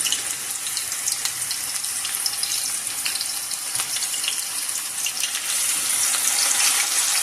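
Chopped onion for Lucknowi mutton chops masala is frying in hot oil, a loud, dense, continuous sizzle held close, with faint stirring scrapes and no voices.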